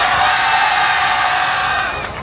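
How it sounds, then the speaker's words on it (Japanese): A YOSAKOI main-stage crowd at the Chiba festival cheers and whoops loudly in a dense, sustained roar mixed with applause, fading slightly at the end. "大きな拍手ありがとうございます"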